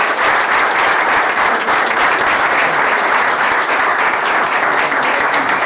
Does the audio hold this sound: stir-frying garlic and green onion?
no